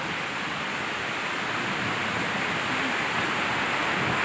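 Heavy rain pours over a flooded street in Santo Cristo, Bulacan, making a dense, unbroken hiss of falling water that stays loud and even from start to finish.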